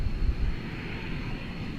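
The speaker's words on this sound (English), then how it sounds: "we can see an American 777 which just lifted off for London Heathrow" An American Airlines Boeing 777 just lifting off at DFW Airport for London Heathrow, heard as a steady, broad, distant engine roar that holds through a short stretch with no voices.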